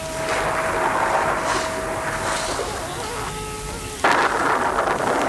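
Rain-and-thunder sound effect from a Hindi radio play of Ashadh Ka Ek Din: a steady, dense hiss of rainfall with faint tonal hums underneath, then a sudden louder rumbling swell near the end, with no voices.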